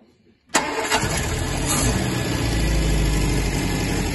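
A classic Sunbeam Venezia Superleggera by Carrozzeria Touring, wired with special ignition to run independently, cranks briefly and catches, then settles into a loud, steady idle close by.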